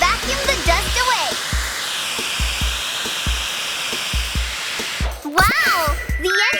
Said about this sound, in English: let us vacuum the dust away